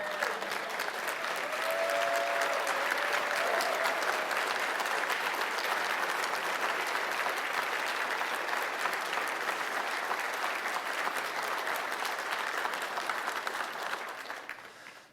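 Sustained applause from a conference audience giving a standing ovation, dense and loud throughout, then fading out at the end.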